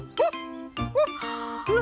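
A human voice imitates a dog barking, giving three short, close, tonal woofs in quick succession.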